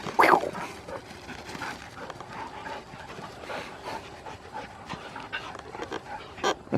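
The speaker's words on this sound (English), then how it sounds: "Little dog. He just wants to play." A small dog pants in quick, steady breaths close by, with a brief yip at the beginning and another near the end, and no talking over it.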